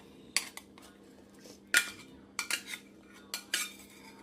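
Ginger and garlic going into a pot of saag, with several sharp metallic clinks of a spoon against the pan in irregular bursts over a low steady hum.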